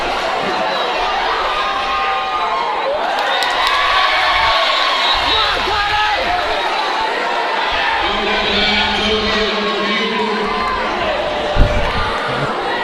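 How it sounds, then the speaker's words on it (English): An agitated home crowd at an Iowa boys high school basketball game roars continuously with shouts, whoops and cheering that fill the gym. Sneakers squeak and a ball thuds beneath the dense noise, and a loud thump comes near the end. "Iowa crowd a little agitated"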